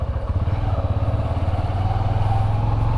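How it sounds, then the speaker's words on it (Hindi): A Honda Hornet 125 motorcycle being ridden away from home, its engine giving a steady low throbbing drone with a rhythmic pulse, close and continuous throughout. "फिलहाल अपनी बाइक को लेके निकल चुका हूँ मैं घर से।"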